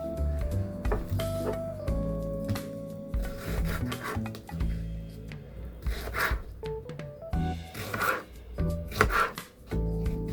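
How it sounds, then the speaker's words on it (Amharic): A knife chops fresh strawberries on a cutting board for a vegan strawberry cake, producing a run of crisp, close taps and slices in irregular bursts over a faint steady hum. "እንደፈለግነው መክተፍ እንችላለን እንደምንፈልገው።"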